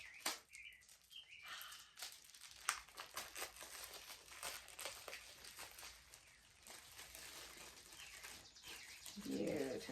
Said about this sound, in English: now for the big reveal and the ripping of the cellophane